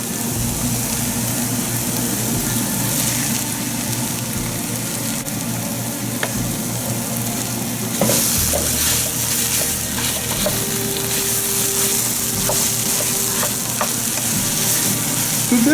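Paneer and almond mixture frying with softened onions in a pan, a steady low sizzle with occasional scrapes of stirring, moderately quiet and continuous.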